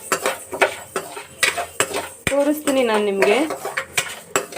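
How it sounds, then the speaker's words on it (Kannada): A utensil scrapes and clinks steadily against a pan while a dry fruits baby food mix is stirred to keep it from sticking, with rhythmic metallic knocks close up and someone speaking briefly in the middle. "ಕೈ ಬಿಡದೇನೆ ಇದೇ ರೀತಿಯಾಗಿ ತಿರುಗಿಸ್ತಾ ಇರಬೇಕು."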